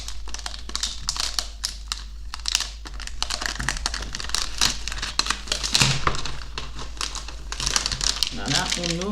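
Packaging for an Asus Zenbook 14 laptop is opened, with close crinkling, tearing and tapping noises in quick bursts throughout and a brief spoken remark near the end.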